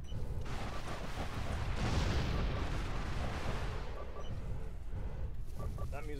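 Artillery fire in a video game arrives as a dense, rumbling barrage of booms that swells partway through, with a voice talking over it.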